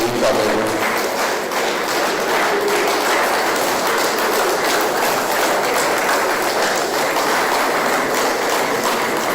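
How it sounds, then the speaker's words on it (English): An audience at an induction ceremony gives a resounding round of applause: loud, dense, sustained clapping that continues evenly through the whole clip without speech. "Resounding round of applause for our professor."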